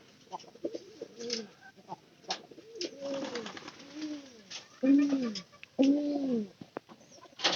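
A white pigeon cooing close by, a series of soft, rounded, repeated coos in irregular bursts over faint background noise.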